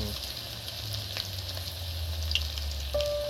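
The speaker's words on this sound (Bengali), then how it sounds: "তেলটা আমরা অনেকটা দিয়েছি, আর এটা ডুবো তেলে ভাজতে হয়" Chicken pakora deep frying in plenty of oil, a steady soft sizzle and bubbling heard up close at moderate volume, with a faint tone and small clicks near the end.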